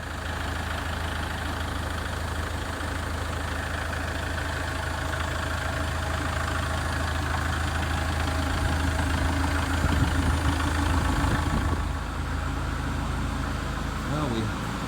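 Kubota L4060 tractor engine running steadily at idle, a continuous loud low rumble throughout with slight variation near the end.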